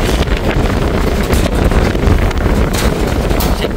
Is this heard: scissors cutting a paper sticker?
no